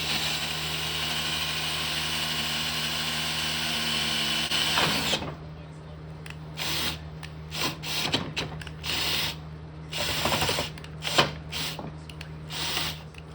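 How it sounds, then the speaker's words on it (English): A steady drill whines for several seconds while drilling metal lubricated with cutting oil, then stops, followed by intermittent scraping and handling noises with a low hum underneath, during steering repair on a Craftsman YT4000 riding mower. "Let's put some cutting oil in there just to make it drill a little bit easier."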